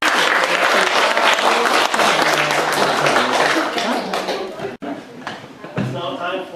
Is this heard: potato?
no